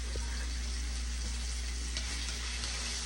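Chopped tomatoes sauté in a pan while sinigang na pampano is being prepared, giving a steady, close sizzling hiss that carries on evenly throughout with no talking.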